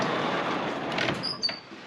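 Stall doors slide shut in a horse barn as a thunderstorm approaches, a rolling metallic scrape under rainy background noise, ending in a short squeak.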